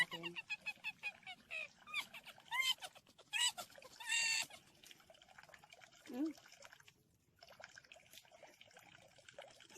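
Water runs and splashes from a public drinking fountain in Eze, France, a faint liquid trickle and drip heard beneath a person talking close by, with bird-like chirps mixed in.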